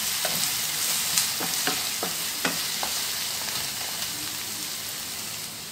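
Egg and fenugreek curry cooking over a high flame, a steady, close hiss of bubbling and sizzling with scattered light pops and stirring taps, no speech.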